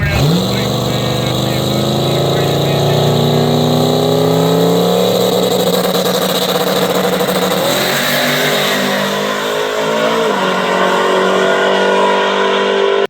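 A turbocharged drag race car makes a loud, sustained engine roar that climbs in pitch through the gears, with shifts heard midway, as it runs down the strip at close range.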